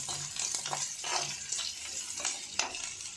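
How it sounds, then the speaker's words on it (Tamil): Small onions and curry leaves sautéing in a pan for beans poriyal, with a continuous sizzle and rhythmic spatula scrapes every half second or so, no speech. "சின்ன வெங்காயம் வந்து வதக்கட்டும்"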